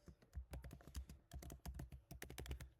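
Quiet, rapid typing on a computer keyboard, a busy stream of keystroke clicks with brief pauses between bursts.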